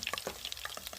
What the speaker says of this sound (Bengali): পনিরটা এরকম হালকাভাবে লাল লাল করে ভেজে নেব